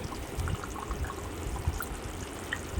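Fish curry bubbling as it boils in a pot on the stove, a soft, steady simmer with faint low pops and gurgles throughout.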